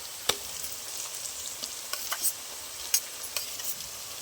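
Chopped tomato hits fried onions in a pan for a fish curry, raising a continuous close sizzle broken by several sharp clicks and scrapes of a spatula stirring, with no speech.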